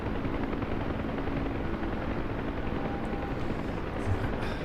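Rotor of a UH-1 Huey helicopter in the DCS flight simulator, a dense, steady broadband thrum that holds evenly throughout with no talk over it.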